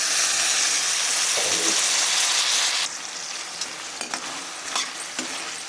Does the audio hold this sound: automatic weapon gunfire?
no